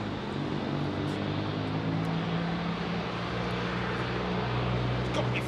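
An Air Baltic CS300 airliner departing Heathrow produces a steady, loud broadband roar with a low droning engine tone that holds throughout, with voices faintly underneath.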